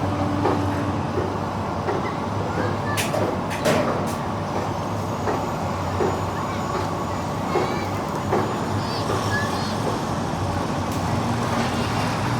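A dump truck maneuvers into position at a muddy bridge dredging site, a steady low engine rumble and drone with occasional clanks, continuous and moderately loud.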